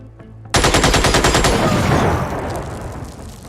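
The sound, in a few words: laser machine gun firing in the video game Xenonauts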